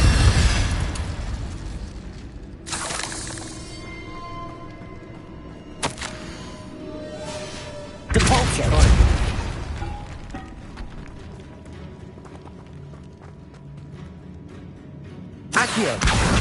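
Spell explosions from the Hogwarts Legacy video game: Bombarda and Incendio blasts land as several loud, booming bursts spread across the span, with quieter magical rumbling and ringing tones in between.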